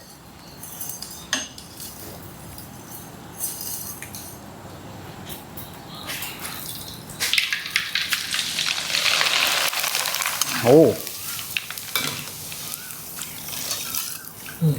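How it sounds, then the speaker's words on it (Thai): Rice vermicelli hitting very hot oil and puffing up fast for crispy mee krob, a loud broad sizzling hiss that swells midway, with a brief exclamation from a voice over it. "ทอดหมี่กันเลย"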